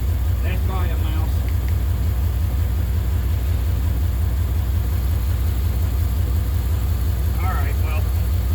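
A truck engine at full operating temperature with two bad injectors idles in a steady low, even rumble, with brief voices breaking in near the start and end.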